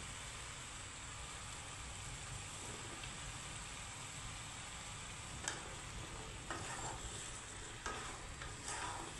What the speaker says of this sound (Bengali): এই তো বেগুন দিয়ে দিচ্ছি।